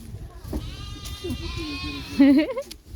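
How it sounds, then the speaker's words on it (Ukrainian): A sheep bleats loudly and nearby as it is carried into an enclosure in Yaremche, Ukraine, with a wavering cry near the end, amid background voices and rustling movement. "Дивися, як овечку заносять до вольєру."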